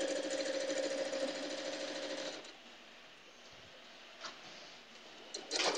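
A sewing machine stitches quilting fabric from the Bunnies and Cream line for a baby quilt, running in a fast, steady whir for about two seconds before stopping. A quiet lull with a few faint clicks follows.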